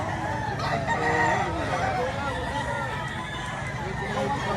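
A rooster crows amid a busy, noisy crowd at a Philippine rooster market, with chickens clucking nearby and people talking throughout.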